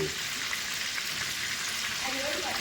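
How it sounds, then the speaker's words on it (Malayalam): Soya chunks frying in coconut oil for veg biryani, a dense, even sizzle held close and loud from start to finish, with no voices. "സോയാബി ഫ്രൈ ചെയ്യാൻ തുടങ്ങിയിട്ടുണ്ട്"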